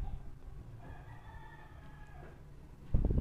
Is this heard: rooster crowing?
yes